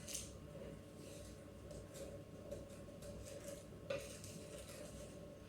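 Flour and sugar being mixed in a kitchen bowl, a soft continuous scraping and clinking of a utensil against the bowl, steady and close with low room noise.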